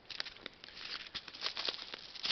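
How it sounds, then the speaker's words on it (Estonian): Meltwater dripping off a roof as the first snow thaws, a light irregular pattering of many small drops, close and faint, with no voices. "katuselt tilgub, katus tilgub, lumi sulab"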